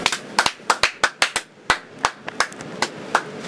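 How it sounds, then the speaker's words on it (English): Sparse, individual hand claps from an audience welcoming President Barack Obama, about twenty sharp, close claps at an irregular, unhurried rhythm with no talking. "Clap your hands for the President of the United States, Mr. Barack Obama."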